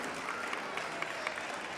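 An audience at a school annual day applauds, a faint, brief patter of many hands clapping at a steady level with a few sharper claps standing out.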